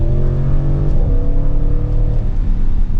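2024 Audi RS7 in an RS drive mode accelerating, a loud close engine and exhaust roar with rising and shifting pitch, heard from inside the car without talking.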